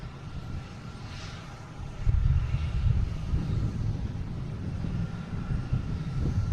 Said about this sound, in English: We have Delta here coming in from Halifax. E175, flight 5757.